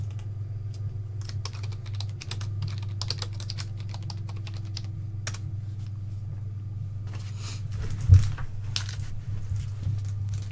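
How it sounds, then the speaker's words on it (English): A computer keyboard clatters with quick bursts of key presses as a sports card entry is typed in, close and light over a steady low hum, with one heavier thump near the end. "Let me type that one in."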